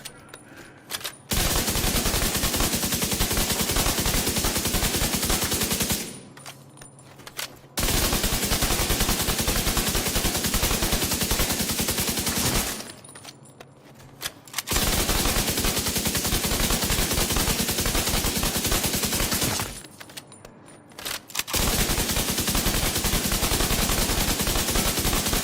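Rifle firing at a target in the video game The Division 2 with a Negotiator's Dilemma build, long sustained bursts of rapid automatic fire broken by short pauses, loud and close.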